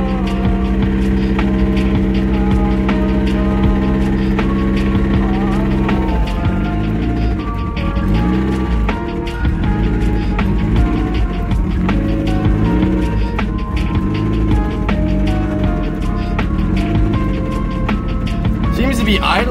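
A turbocharged Mazda Miata engine idles steadily after a clutch failure, its low rumble continuous and close throughout, with occasional harmonic wavering and a person speaking over it.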